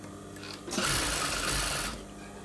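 A sewing machine stitches bra cups together, with quieter handling first and then a single steady mechanical run of about a second that stops abruptly.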